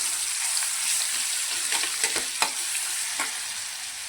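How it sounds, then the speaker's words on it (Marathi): Finely chopped green chillies fry in hot oil with cumin and mustard seeds, giving a steady close sizzle with light crackles and a few stirring taps, no speech. "बारीक केलेली मिरची ही चांगली तेलामध्ये फ्राय करून घेऊया"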